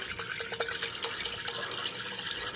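Hot water poured into a cooking pan, a steady splashing and trickling stream with a few brighter drips, close by and quiet.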